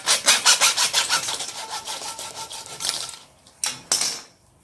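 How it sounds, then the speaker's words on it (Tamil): PVC pipe cut to length for a kite frame with a hand saw: quick rhythmic back-and-forth strokes close up that slow and fade, then two final separate strokes, with no talking. "பட்டத்தோட கிராஸ் லென்த்துக்கு பிவிசி பைப்பை கட் பண்ணியாச்சு"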